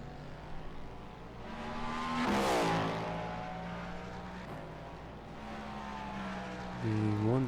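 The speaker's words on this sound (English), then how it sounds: "Looks like we're starting to catch a couple GT3 cars." GT3 race cars in an IMSA racing video game: a sustained high engine drone with a tonal whine, one car sweeping close past with a rising and falling pitch, then the engine pitch shifting at the end.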